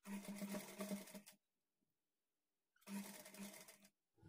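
A sewing machine stitches a high neck blouse in two close, rapid bursts of clattering needle strokes separated by a quiet pause of about a second and a half.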